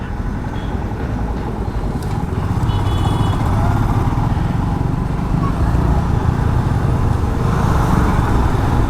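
Light traffic on TC Palya Ramamurthy Nagar main road, with a steady low rumble of passing cars and motorbikes, moderately loud and continuous, with no clear talk.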